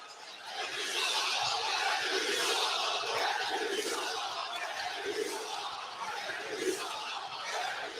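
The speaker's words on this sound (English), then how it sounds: "The crowd is taking a little issue." A college basketball arena crowd at a UConn home game against Villanova roars and jeers in protest, a dense sustained wall of voices with shouts and scattered laughter rising and falling, loud throughout.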